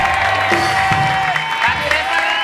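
A crowd at an Indonesian TV comedy variety show claps steadily for a performer, loud and continuous applause mixed with cheering and some voices throughout.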